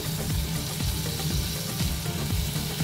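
Onion and tomato with ginger-garlic paste sautéing in a pan for chicken baida roti, a loud, dense, steady sizzle with soft rhythmic stirring scrapes throughout and no voices.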